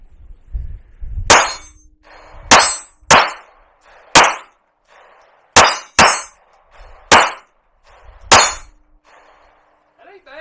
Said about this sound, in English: check out Timmy King here shooting this pistol